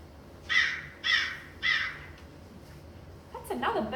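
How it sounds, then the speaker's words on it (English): A black crow gives three loud, evenly spaced caws about half a second apart, then a person briefly starts talking at the end. "It's a black crow."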